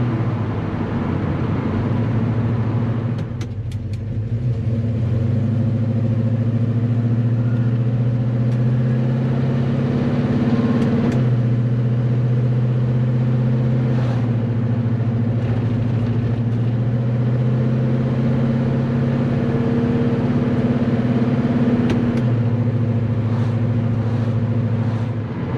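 A Chevrolet Chevelle being prepared for track events drones steadily from inside the car, its engine holding a low, even hum that rises and falls gently under light, part-throttle acceleration throughout.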